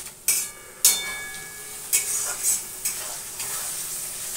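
Fish seasoned with salt and turmeric frying in a pan, a steady close sizzle broken by several clattering stirs and scrapes.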